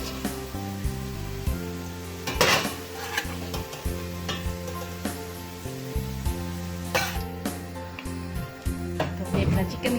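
Fried chicken being stirred in a pan and lifted out, with a close sizzle beneath repeated scraping and metallic clinks of the spoon, over a low steady hum.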